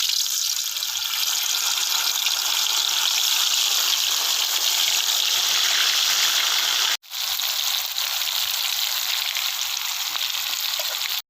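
Chicken pieces frying in coconut oil in a pan, a loud, continuous close sizzle that holds steady, cuts out briefly for a moment, then resumes just as strongly, with no talking.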